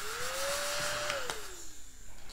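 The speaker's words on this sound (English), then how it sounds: "It's always my trusty desktop vacuum." A small desktop vacuum cleans up eraser crumbs after ink drawing, giving a close, steady whirring drone with a rising and falling motor pitch over about two seconds.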